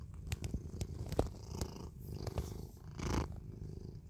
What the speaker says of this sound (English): You got a big purr.